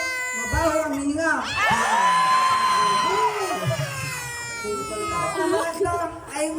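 A crowd cheers and shouts loudly at a lively pageant-style show, with whoops and yells rising and falling continuously over a sustained, dense roar of voices.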